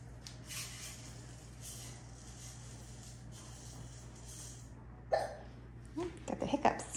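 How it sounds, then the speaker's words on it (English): A person hiccups during a robot vacuum spot-cleaning test: a few sharp, short hiccups come near the end over a steady low room hum, with quiet background noise before them. "Got the hiccups."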